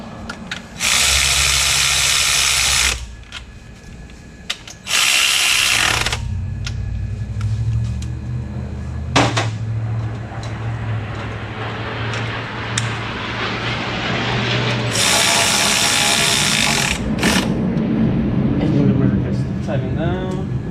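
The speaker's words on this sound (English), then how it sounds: "Just use the electrical ratchet to get them in there quick." Electric ratchet running tightening ten-millimeter bolts on a new alternator for a 2007 Mustang, loud high-pitched bursts of whirring in several runs of a few seconds each, with talk and shop noise between them.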